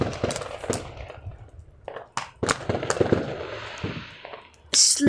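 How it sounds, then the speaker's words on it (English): Bonfire night fireworks burst and crackle in rapid, irregular pops and bangs, some close and sharp, others more distant, with a loud hissing burst at the end and no talk over it. "So many fireworks."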